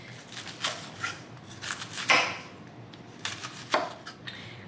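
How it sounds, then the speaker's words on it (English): A kitchen knife slicing vegetables thinly for a slaw on a cutting board, a few crisp, uneven cuts and taps close by with quiet pauses between, no talking. "So we're just going to cut this, slice this very thinly."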